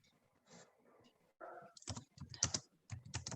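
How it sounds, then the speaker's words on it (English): Typing on a computer keyboard, quick clusters of clicky keystrokes in bursts, fairly close, with brief quiet talk before the typing starts. "I'm typing, just bear with me."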